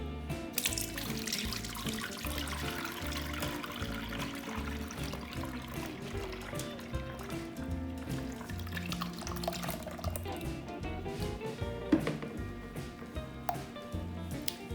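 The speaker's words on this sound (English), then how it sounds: "Time to pour it through a sieve." Chicken stock poured through a sieve, a steady continuous splashing stream of liquid running for the whole stretch at moderate level, no voices.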